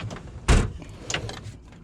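Storage drawer in a van being unlocked and slid open: a sharp clunk from the lock followed by a short rumbling slide and softer rattles of small supplies shifting inside, heard close.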